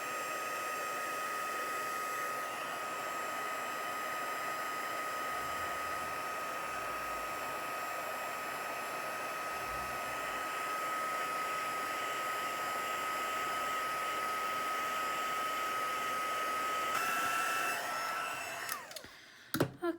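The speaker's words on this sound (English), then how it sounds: "Get my heat tool good and hot." Heat tool blowing hot air for card making, a steady whooshing fan noise with a thin whine, running close and loud for about seventeen seconds before cutting off with a few clatters.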